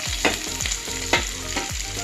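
A snack-roll filling with chopped cucumber sizzles in a pan while a spoon stirs it in regular sweeps, each stroke giving a scraping knock roughly every half second, close and clear with no voices.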